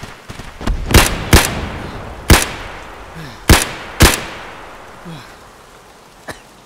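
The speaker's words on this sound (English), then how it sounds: "Now they're shooting everywhere." Gunfire in Escape from Tarkov: several loud, sharp single shots at irregular intervals, some close and some farther off, with fainter distant reports trailing between them.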